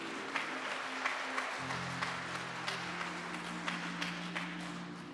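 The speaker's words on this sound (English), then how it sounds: "Let's give God a great big hand clap of praise." A church congregation claps steadily together in a regular rhythm, sustained applause over a low droning hum.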